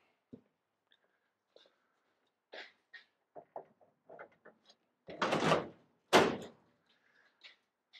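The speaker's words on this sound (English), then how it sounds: "Shut the door." A 1968 VW car door is swung shut, giving two heavy thudding bursts close together after a string of small clicks and handling knocks, with faint quiet sounds trailing after.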